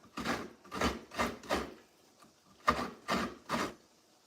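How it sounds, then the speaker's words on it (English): Coconut is grated by hand the traditional way, with rhythmic rasping scrapes in two bursts of about four strokes each, close and fairly quiet, separated by a short pause and with no voices. "I'm grating the coconut in an ancient way."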